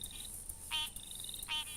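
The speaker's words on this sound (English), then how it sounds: "The green tree frog sounds to me like a rusty gate." Two short, nasal, rasping green tree frog calls sound close by, spaced under a second apart, against a steady high insect trill.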